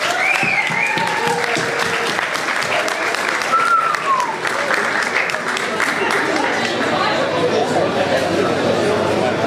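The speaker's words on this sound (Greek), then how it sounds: "Θα θέλαμε να πούμε ένα χειροκρότημα για Playfuls που οργάνωσε όλο αυτό το live." Audience applause at a live concert in a club, many hands clapping continuously with cheering and whistles on top, while voices talk and call out through it.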